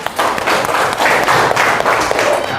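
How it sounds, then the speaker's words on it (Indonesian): Schoolchildren clapping together in a classroom during a coding lesson, a dense, continuous round of applause close by lasting under three seconds. "Ya, beri tepuk tangan."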